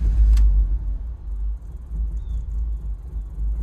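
A misfiring BMW E46 engine runs with a steady, heavy low rumble. It swells briefly at the start and again later as it revs up a little, with no talk.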